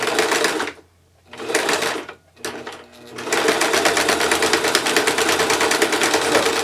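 A sewing machine top-stitches a medieval banner in fast, loud mechanical bursts, pausing briefly twice before running continuously.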